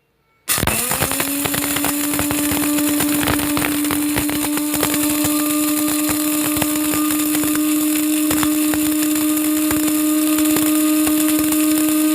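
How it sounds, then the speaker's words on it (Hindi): A mixer grinder starts abruptly and runs loud and steady, a constant high motor whine with rattling as garam masala is ground, with no talk. "इसमें गरम मसाला डालकर अब इसको ग्राइंड करेंगे।"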